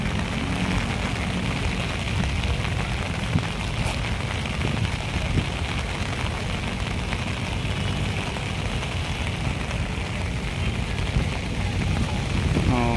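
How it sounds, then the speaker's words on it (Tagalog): Heavy rain pours steadily on Manila Baywalk's Dolomite Beach during a clean-up drive, a dense, constant hiss that stays loud throughout with no voices. "Lumalakas po yung ulan eh."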